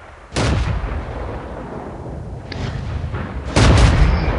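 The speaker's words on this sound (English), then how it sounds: "This one's going to do sniper shooting from the hill." Two heavy cannon shots from a T1 Heavy tank in World of Tanks, fired from a hillside sniping position: a loud booming blast near the start and a second, even louder one toward the end, with a rumbling tail between them.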